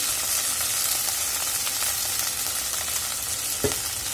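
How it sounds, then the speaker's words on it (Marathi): Okra frying in oil in an open pan, a steady, close, dense sizzle with faint stirring scrapes and one brief knock near the end, with no voices. "आणि तेलावरच आपल्याला भेंडी छान भाजून घ्यायची आहे"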